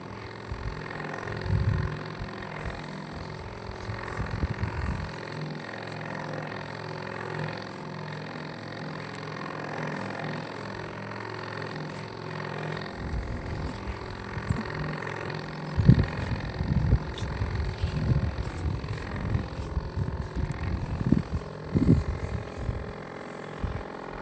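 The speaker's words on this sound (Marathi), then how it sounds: "पाठीव पंप आहे माझ्या" A backpack power sprayer pump running steadily while spraying a maize crop, a continuous small-engine drone with fluctuating rumble and occasional bumps, heard close throughout.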